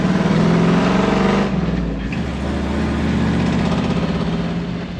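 A recovered wrecked Ford car with its engine running smoothly, a steady loud hum that shifts pitch slightly partway through, close and continuous with no talking.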